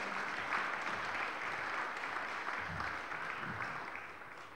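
A crowd applauds steadily at a sports awards ceremony, a dense wash of clapping hands that holds for several seconds and fades slightly toward the end.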